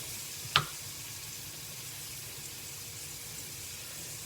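A turkey burger sizzles softly and steadily in a frying pan after being flipped, with one sharp clink of the spatula near the start.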